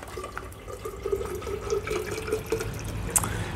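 Water poured from a tap or jug into a bottle of cold brew tea, a continuous close gurgling fill with small splashes throughout, no speech.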